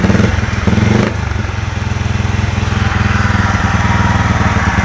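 A Honda Supra 125 FI motorcycle engine with a charging fault runs close by, a loud rapid rhythmic putter that steadies into an even idle after a brief rev at the start.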